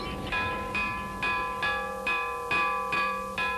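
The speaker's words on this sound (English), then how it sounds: "Up before day at the clang of the bell, out to the mill by the clang of the bell" A mill bell clangs in a steady, evenly spaced rhythm, about eight ringing strokes with bright overtones, each decaying briefly before the next, heard fairly close over a faint hum.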